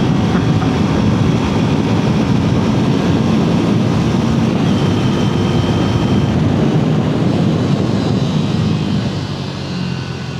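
A Triumph Tracker 400 motorcycle engine drones loud and continuous while riding, its low roar blended with heavy wind rush; the sound eases off slightly in the final second.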